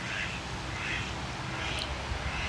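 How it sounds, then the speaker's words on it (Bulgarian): Ducks at a pond with swans quack several times, nasal calls at moderate distance over a constant outdoor hiss. "И патици."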